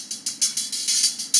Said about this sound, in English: one of 2 samples I used throughout this entire song is this open hi-hat